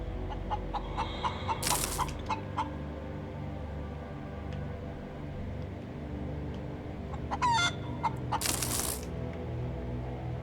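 Chicken clucking in the space survival game Breathedge: a few short bursty clucks near the start and again around two-thirds through, over a steady humming game ambience with no talk.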